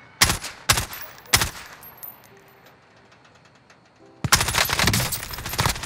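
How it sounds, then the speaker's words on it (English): Gunfire in Call of Duty Warzone on Rebirth Island: three sharp separate shots, a quiet gap, then a sustained loud burst of rapid automatic fire, close and without speech. "Taking effective fire"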